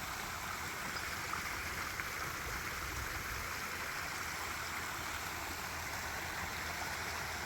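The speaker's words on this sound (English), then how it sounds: "Nice sounding little water feature here." Steady splashing rush of a small waterfall, continuous and even, a close broadband hiss of falling water with no voices.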